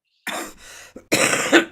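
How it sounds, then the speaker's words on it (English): Several harsh coughs close to the mic, a short burst followed by a louder, longer fit of coughing. "this cough thing"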